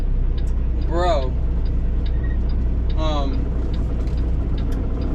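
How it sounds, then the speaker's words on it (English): A recently greased truck runs with a steady low engine rumble throughout, while someone talks over it. "The truck is running really nice"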